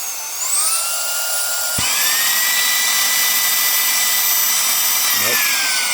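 A cordless mini handheld vacuum cleaner runs while clogged, producing a steady high whine that shifts pitch as the motor strains, with a couple of brief knocks partway through.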